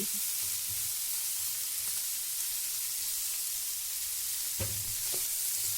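Cauliflower, onion and tomato sauté in a pan with a steady, even sizzle throughout, plus a couple of brief louder stirring scrapes near the end; no talking.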